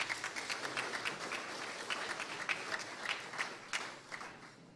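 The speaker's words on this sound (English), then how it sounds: "Please give me a round of applause for the Rice students tonight." Audience applause for Rice University students at an evening STS-AIChE monthly meeting, a steady burst of clapping from a moderate crowd sustained throughout, somewhat distant and even.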